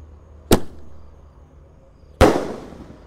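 Two sharp whooshing pops from a Mercon Basoka 200-shot Roman candle launching, close and loud, spaced almost two seconds apart, each followed by a brief fading hiss.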